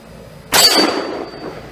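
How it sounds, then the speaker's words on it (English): A .44 Magnum round from a new short-barrel Smith & Wesson 629 revolver strikes a small steel target, giving one loud, sharp metallic clang that rings and fades over about a second in an otherwise quiet outdoor setting. "So the first shot is a brand new 629 short barrel 44 Magnum."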